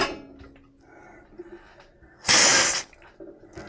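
Hot tap water briefly splashing onto a folded microfiber cloth, a sharp, loud rush of water lasting about half a second after quiet handling noises.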